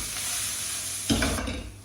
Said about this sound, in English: Now add in your onions. We'll cook those down until they're nice and soft.